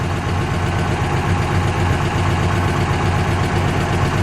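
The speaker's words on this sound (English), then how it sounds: "Let's let it idle for just a second, Anthony." 1964 Chrysler 300K coupe engine idling, a steady close rumbling idle with an even, slightly lumpy pulse throughout and no voices.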